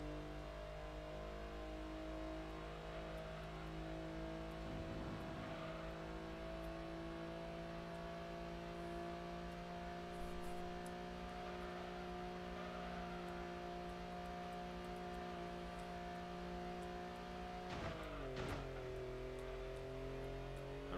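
A race car engine drones steadily through a lap in Gran Turismo 2, a sustained whining tone with small pitch shifts and a brief dip near the end, alone without talk.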